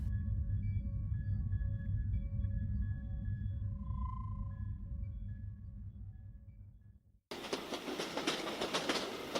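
A train rumbles along the tracks with a steady low roar and a drawn-out tonal hum, then cuts abruptly to a louder, harsher rushing noise.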